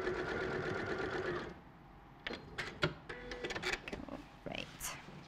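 A sewing machine stitches shoulder seams with a steady mechanical whirr for about a second and a half, then stops, followed by quiet handling clicks and light knocks nearby.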